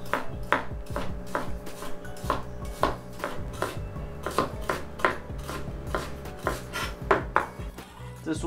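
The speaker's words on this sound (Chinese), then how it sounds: "这个把它切跟洋葱差不多的大小。" A knife chops celery on a cutting board while vegetables are prepared for a Spanish seafood paella: a steady run of crisp, evenly spaced chops, close and clear, with no talking.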